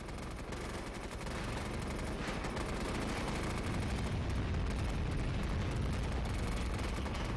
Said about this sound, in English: he's going to call on a cluster bomb to clear the enemy off this wall and secure the point